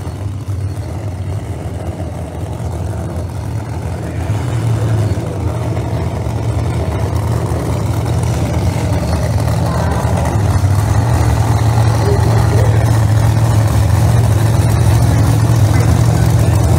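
Pro Mod drag racing cars with supercharged and screw-blown engines rumble loudly and steadily at the start line of an outlaw Pro Mod qualifying session, a deep continuous engine drone with a rising surge partway through, crowd or announcer voices underneath.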